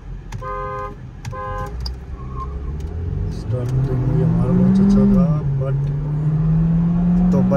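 Volkswagen Virtus GT and Virtus 1.0 cars accelerate side by side in a drag race, engine note rising into a strong climbing drone after a couple of short horn toots, with people talking over it.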